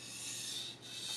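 A knife blade pushed across a sharpening stone makes a steady, close, gritty rasping rub that continues almost unbroken through the short stretch, dipping briefly once, with no voices.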